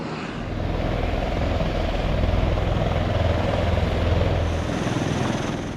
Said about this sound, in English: As a security measure, Marine One always flies in a group with identical helicopters